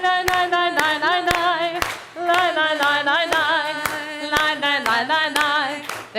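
Steady rhythmic clapping from a group at a Yom Kippur children's worship service, sharp regular claps underneath loud sustained singing voices, with one brief pause partway through.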